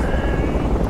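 Helicopter in the military shooter Project Reality, a steady rotor and engine drone filling the whole short moment at close range, with no voices over it.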